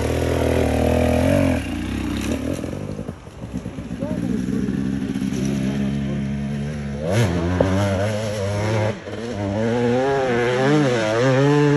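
Chainsaws roar at full throttle nearby, their engines holding a steady, rising and falling whine over several seconds while people shout over the noise.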